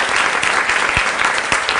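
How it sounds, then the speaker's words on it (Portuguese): School students at CIEP Dr. Ulisses Guimarães applaud a guest actor, a dense, loud burst of clapping from a close crowd filling the whole moment without pause. "uma salva de palmas para o Marcos Palmeira"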